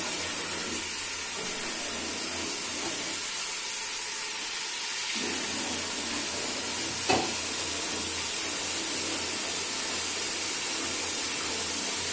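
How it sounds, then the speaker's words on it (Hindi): Masala fries in a pan with a bit of water added, giving a continuous close sizzle and hiss that swells slightly midway, with a single sharp clink or tap near the end. "इस तरह से इस मसाले को अच्छे से भूनेंगे और थोड़ा सॉफ्ट होने देंगे।"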